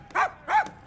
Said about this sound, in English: A hound. A dog.